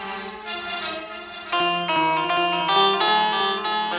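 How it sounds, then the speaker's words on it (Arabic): Reedy, sustained accordion-style chords from an electronic keyboard, several held notes changing in a short phrase, clear and alone. "أكورديون."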